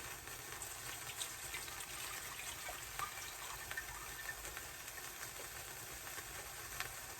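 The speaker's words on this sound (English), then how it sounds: "Then you want to pour it back into your sauce bowl." Steady broadband rush of eggnog mixture pouring back into a sauce bowl, a continuous splashing wash with faint clinks, no talking.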